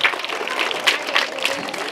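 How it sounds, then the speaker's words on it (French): An audience at a school ceremony for a gift presentation and the opening of a computer room applauds itself, with steady mid-level clapping swelling in small bursts over two seconds and voices mixed in. "Applaudissez pour vous-même."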